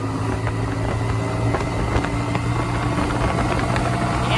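A motorcycle engine runs steadily as a ride gets underway, a continuous low drone with engine harmonics and broadband road and wind rumble, fairly loud and close, with no talking.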